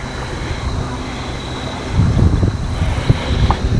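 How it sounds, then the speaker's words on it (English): Gusts of wind buffet the microphone outdoors while fishing, low rumbling bursts that grow stronger partway through, over a steady outdoor hum. "That wind is really starting to beat up on me here."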